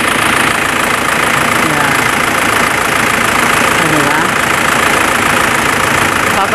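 A diesel engine idles loudly and steadily up close, a continuous rough clattering rumble, while a voice speaks briefly over it.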